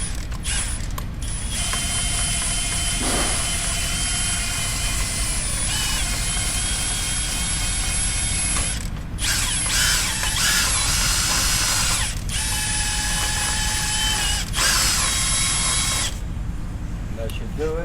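A handheld power tool whines and grinds in bursts while cleaning the rear wheel hub of a 2015 Maserati GranTurismo convertible in a noisy shop, steady and close, with brief pauses between runs.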